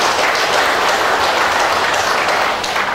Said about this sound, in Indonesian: Jadi tepuk tangan buat Ahmad Sahrul Siregar.